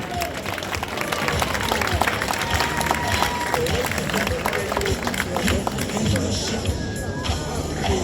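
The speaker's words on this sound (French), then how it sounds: "On peut l'applaudir." A crowd at the Miss Reine de la Noisette beauty pageant in Lavit de Lomagne applauds steadily, the wash of clapping mixed with crowd murmur and a voice talking over it.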